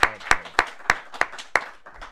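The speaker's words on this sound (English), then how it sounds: "big round of applause" A studio audience on a talk show claps in sharp, evenly spaced bursts, about seven distinct claps over two seconds, close and fairly loud with no talk over them.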